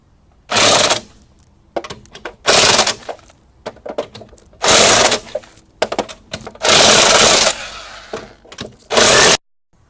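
An impact wrench tightens the lug nuts on a 2010 RAV-4 rear wheel in a star pattern, firing about five loud, close rattling bursts of roughly a second each, separated by short pauses.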